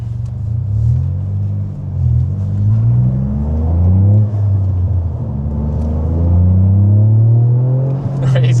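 Toyota GR Yaris three-cylinder engine fitted with an aftermarket exhaust, heard from inside the car, revving and pulling with a loud, continuous rumbling drone that rises and falls in pitch as it accelerates.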